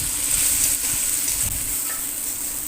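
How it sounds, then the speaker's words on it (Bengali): Turmeric powder and salt stirred into food frying in a pan give a continuous soft sizzle and hiss, with a few faint scraping stirs, close and steady, with no talk. "তারপর এর মধ্যে দিয়ে দেব হলুদ গুঁড়ো স্বাদ মতো লবণ দিয়ে ভালোভাবে একটু নাড়িয়ে নেব"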